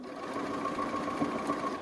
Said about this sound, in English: So again, just sewing to the seam.